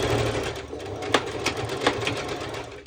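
Sewing machine running a straight stitch on bikini fabric, a steady close mechanical whir with faint rhythmic ticking throughout.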